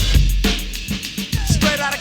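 The Amen break drum sample as used in a 1988 track: punchy kick, crisp snare and cymbal hits in a fast, syncopated loop, loud and up front.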